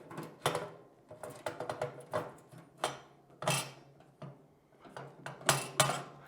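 Metallic clinks and ratcheting clicks from tightening bolts on the chimney of a GMG Trek pellet grill during assembly, a string of short close taps and scrapes in irregular bursts with no talking.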